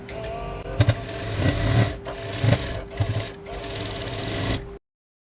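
A sewing machine stitches the inner side seam of a trendy short summer kurti, running in close, rattling bursts of a second or so with brief pauses between, and no voices.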